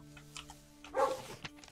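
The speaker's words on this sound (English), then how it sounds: "I see a dog. Are you a bad dog or are you a good dog?" A dog barks in a spooky cabin in the game Mumsy's Spooky Lodge, a short mid-volume woof followed by a couple of smaller sounds over a steady low humming background.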